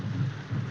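Steady rain falling, a dense low rushing wash with no distinct drops, heard alone and fairly close in a 1932 film scene.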